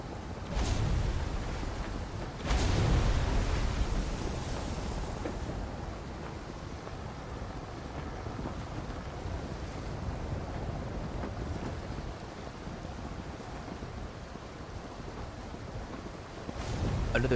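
Steady, loud rush of wind and water as a boat sails across open ocean in the Arcane Odyssey video game, a continuous roaring wash with a couple of brief gusts and no voices.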